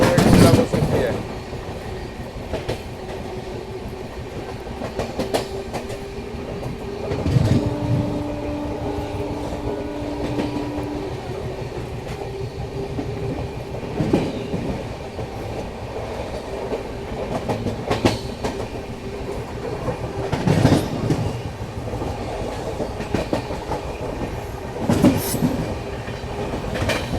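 The 12561 Swatantrata Senani Superfast Express runs steadily on its rails, heard from inside the carriage as a continuous rumble with rhythmic clickety-clack wheel beats and a brief tonal squeal partway through.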